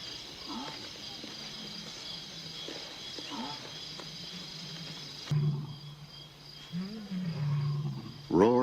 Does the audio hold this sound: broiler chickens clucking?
no